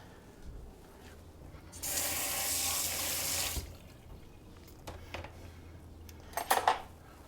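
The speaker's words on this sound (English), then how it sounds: "We can rinse that out." A kitchen tap runs for about two seconds, rinsing a utensil after ginger was scraped off, followed by quiet clinks and handling sounds.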